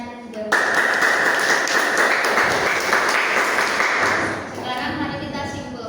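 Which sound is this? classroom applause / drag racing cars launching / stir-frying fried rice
classroom applause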